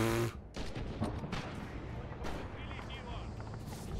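Gunfire from the Red Orchestra 2 World War II shooter game, with several loud shots and booming blasts cracking out under a player talking over a steady battlefield din.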